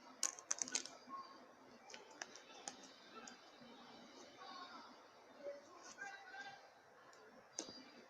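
Slime squeezed by hand, giving soft crackling clicks and tiny pops in quick irregular bursts, quiet and close, with faint voices in the background.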